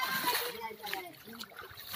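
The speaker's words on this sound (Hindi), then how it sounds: "हालांकि मुझे भी पानी में चलना पड़ रहा है" Feet splashing and sloshing through water on a flooded, broken village road in Gonda district, Uttar Pradesh, with close, uneven wet steps throughout and someone talking over them.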